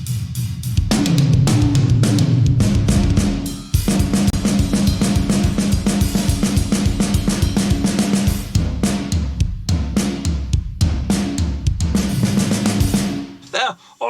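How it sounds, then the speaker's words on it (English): Drum kit played with a thick Aurora DSP Rotten Pool Verb reverb, a steady pounding groove of kicks, snares and cymbals washed in dense ambience, loud and continuous, with a brief break midway and an ending trailing off into reverb. "Then all together with the main reverb on there as well, the drums sound like this."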